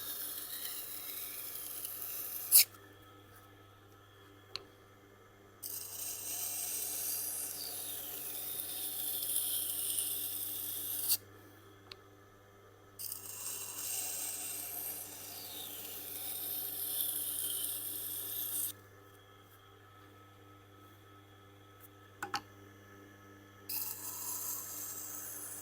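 A damaged IKEA chopper's knife edge rubbed on a Tormek-style grading stone, giving steady bright rasping strokes in several long passes separated by brief pauses, close and fairly loud, with no talking.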